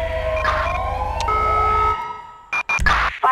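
A loud electronic ambulance siren in GTA V (LSPDFR mod) wails and yelps over an engine drone, then cuts out into short bursts of clattering noise.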